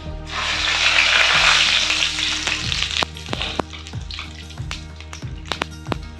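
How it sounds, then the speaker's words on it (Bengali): Cumin, bay leaf and dried chili crackle in hot oil for a duck curry, a loud steady sizzle for the first few seconds that thins into sparse pops and clicks, with no voices. "জিরে তেজপাতা শুকনো লঙ্কাটা দিয়ে দেবো।"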